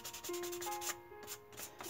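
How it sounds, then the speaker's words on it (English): A fingertip rubs back and forth across a smooth, cured Bondo surface, making a soft, faint repeated rubbing with a quiet squeaky tone at close range. "I'm rubbing my finger on it, and I can feel that it's smooth."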